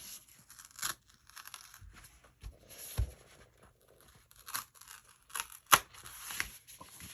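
Scissors snip and crunch through paper while trimming a scrapbook page, up close. The cuts come as irregular short bursts with quiet gaps between them, and there is no talking.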